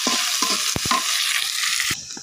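Chilies and onions stirred in hot oil, a loud continuous sizzle broken by several sharp scraping strokes of a spatula against the pan, easing slightly near the end.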